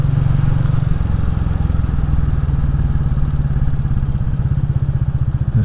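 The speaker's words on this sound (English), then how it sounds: "There's something wrong with this bike. I think I have a puncture." A Royal Enfield Classic 350 motorcycle rides along with a punctured tyre, its loud close engine thumping in a steady rapid beat with a rhythmic knocking clatter underneath, no voices.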